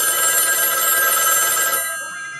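An electric telephone bell rings loudly and rapidly for under two seconds, then stops, leaving a fading metallic ring.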